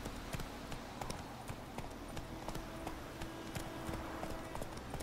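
Horse hooves clip-clopping in the video game The Witcher 3, a steady rhythmic run of close, even hoofbeats over a continuous low background, with no talk over them.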